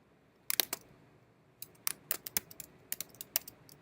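Close, sharp clicks from a computer keyboard as a short word is typed. A brief burst comes first, then a pause, then a faster run of keystrokes, all fairly quiet.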